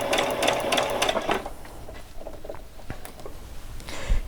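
A sewing machine stitching the waistband of an old dress being upcycled, a fast loud rattling run of stitches that stops after about a second and a half, followed by quieter handling taps and faint fabric shuffling.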